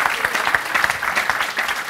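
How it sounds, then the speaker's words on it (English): A crowd claps for a photo at a signing ceremony on smart EV charging, dense, loud and close applause from many hands, sustained throughout with no speech over it. "You can clap. I think it needs a clap so they can smile."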